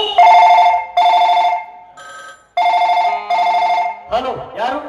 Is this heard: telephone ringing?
yes